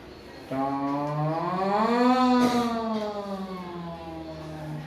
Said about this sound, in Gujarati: દાખલા કે સાયરન છે, દૂરથી આવે છે